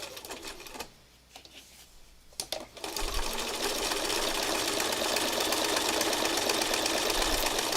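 Sewing machine stitching scraps of fabric: a steady, fast mechanical whir that runs continuously from about three seconds on, after a few short stops and starts at the beginning.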